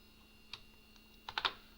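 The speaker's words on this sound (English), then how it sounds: "We're just going to go through and press the enter key on the keyboard." Keys on an IBM PS/2 computer keyboard click a few times in a quiet room: one isolated press, then a quick cluster of three clacks near the end over a faint steady hum.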